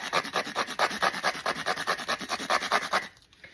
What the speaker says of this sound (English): you're going to just grate your cardstock. Like you're grating cheese.